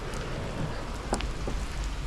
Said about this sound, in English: All right, just started to pour. It's really raining.